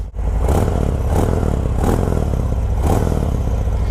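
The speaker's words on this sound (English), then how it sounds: "Let's give it a bit of a rev." A 2018 Harley-Davidson Fat Bob 114 ci motorcycle engine revs hard in several quick bursts, loud and close, with a steady rumbling idle between each throttle blip.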